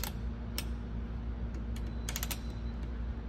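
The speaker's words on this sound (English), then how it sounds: "So it's got like a ratchet mechanism." Ratchet mechanism on a Snap-on creeper clicking in a few quick, sharp ticks close by, scattered over a steady low hum with no talking.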